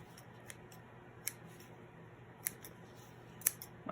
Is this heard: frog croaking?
no